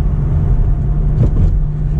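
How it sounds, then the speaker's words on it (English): A McLaren 570GT's turbo V8 drones low and steady while driving, a constant rumble of engine and road noise with no voices. "But this turbo V8 is fantastic."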